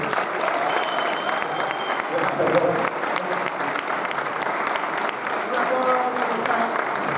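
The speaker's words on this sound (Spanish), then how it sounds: "vamos a recibir con un muy fuerte aplauso al señor Lucas Denis" Sustained loud applause from a large audience, steady clapping filling the room throughout.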